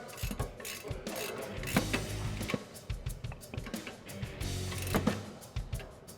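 Suspension sway bar end links and jam nuts are tightened on a 2005-2014 Mustang GT during a coilover install, giving quiet, busy mechanical clicking and ratcheting in quick irregular bursts.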